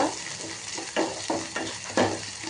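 Ginger garlic paste frying in a pan for a bajji masala pulusu, a close, continuous sizzle with a few louder stirring swishes at regular intervals.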